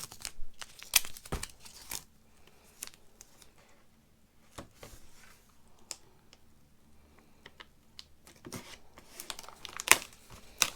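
Poster board pieces pinched together and taped for a paper mache pumpkin reaper armature: close, sparse crinkles, tape rips and scattered taps, quiet between bursts, with no talking.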